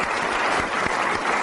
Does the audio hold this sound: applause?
yes